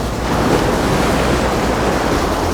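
Surf breaks on a beach while salmon are fished off the sand at Esperance, Western Australia, a loud continuous roar of waves mixed with wind buffeting the microphone.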